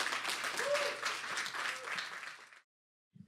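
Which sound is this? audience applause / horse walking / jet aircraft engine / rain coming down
audience applause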